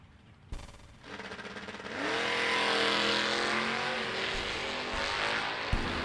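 A drag racing car launches hard into a big wheel stand: a sharp burst, then a loud, steadily rising engine roar that builds and holds, close and dominant.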